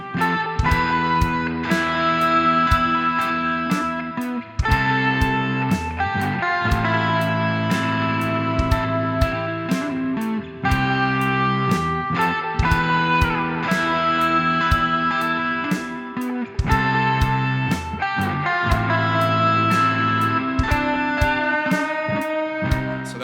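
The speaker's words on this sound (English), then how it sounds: "I got my Les Paul here." A Gibson Les Paul electric guitar plays a lead lick over a full band backing track with steady drum hits, a dense and continuous mix heard without any talking.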